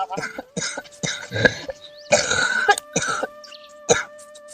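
A person with a fever and cold coughs repeatedly in loud, close bursts, with some throat clearing between the coughs.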